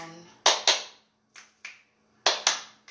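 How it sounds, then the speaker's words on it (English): Slow, deliberate finger snaps and claps in a quiet room during a stress-release exercise, sharp, close single strikes in uneven pairs with pauses between. "I'm going to do some slow clap snaps"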